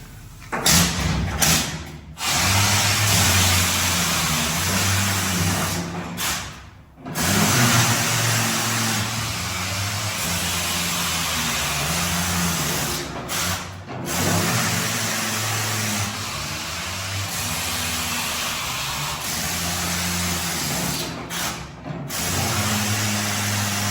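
A mine mucking machine in the Old Hundred Mine, Silverton, Colorado, runs loudly and steadily with a mid-pitched engine drone, broken by a few brief pauses and clanking shifts.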